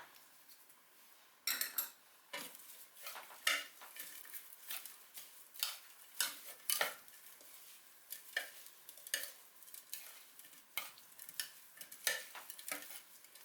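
Spatula stirring and tossing vegan mushroom larb with herbs such as culantro and lemon basil in a pan, a steady series of close clinks and scrapes with a faint sizzle beneath, no talking.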